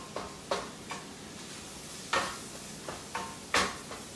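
Garlic and celery sautéing in a pan for crab cakes: faint background sizzle broken by several sharp scraping stirs of a utensil against the pan, irregularly spaced.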